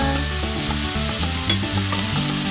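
Fajitas of meat and onion sizzling loudly in a hot pan, a dense continuous frying hiss with faint stirring scrapes, close and steady, no voices.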